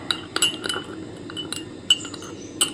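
Turmeric powder stirred into black shampoo in a small container: light clinks and taps of a spoon against the sides at irregular intervals, close and fairly quiet over a soft steady background.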